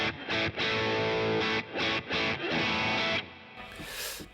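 Distorted electric guitar chords ring through a Boss Katana amp set to room reverb in a recording studio, played in several strummed bursts with short gaps, the last chord decaying into a soft reverb tail.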